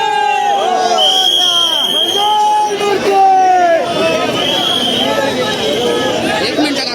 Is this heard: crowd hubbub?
yes